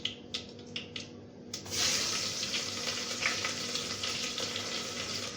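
Chopped onions sizzle in a hot pan with curry leaves and asafoetida, a faint clatter first, then a steady frying hiss that carries on alone.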